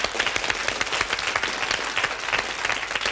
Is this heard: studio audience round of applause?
yes